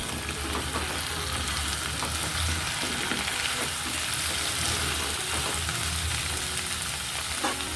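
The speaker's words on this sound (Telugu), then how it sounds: "అల్లం వెల్లుల్లి కాస్త వేగాక ఇందులోకి కట్ చేసి ఉంచుకున్న మునక్కాయ ముక్కలు వేసుకుంటున్నాను." Drumstick pieces frying with ginger and garlic in a pan give off a steady, dense sizzle that stays even throughout, with faint crackles and no talk.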